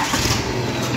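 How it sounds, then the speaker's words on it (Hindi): A farm tractor engine runs steadily at close range, a dense continuous rumble with no gaps and no voices. "ट्रैक्टर की आवाज़ सुन सकते हैं भाइयों"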